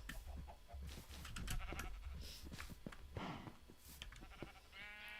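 Minecraft sheep bleat repeatedly beside a town's shepherd area, several overlapping nasal bleats over a steady low game background, with no one speaking.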